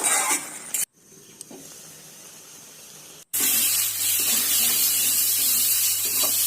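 Steady sizzling and bubbling from a vegetable curry in a pan on the stove, with a clink of utensils and a brief stir, broken by two short gaps.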